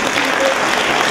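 Audience clapping at a spring holiday concert in a Ukrainian arts education centre, a dense loud burst lasting about a second, with a voice briefly audible over it.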